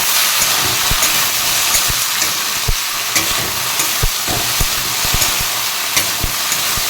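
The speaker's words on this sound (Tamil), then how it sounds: "இன்றைக்கி வெண்டைக்காவும் உருளைக்கிழங்கு போட்டு பொரியல் பண்ணிட்டுருக்கேன்" Okra and potatoes frying in a pan for a Tamil poriyal, with a steady broadband sizzle and hiss broken by frequent sharp clicks and taps of a spatula stirring against the pan, close and fairly loud, with no talking.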